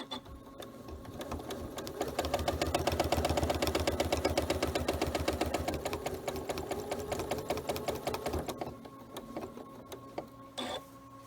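A sewing machine stitches in the ditch along the seams of a pin-basted quilt, a fast, even, close mechanical chatter that speeds up, runs steadily, then slows and stops, with a brief burst near the end.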